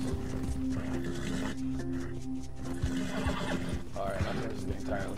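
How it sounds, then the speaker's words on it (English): A horse neighs and whinnies with clip-clopping hooves in the Red Dead Redemption 2 video game, loud and close, with game voices and other in-game sounds beneath it. "Alright, my horse is getting tired, let's calm it down."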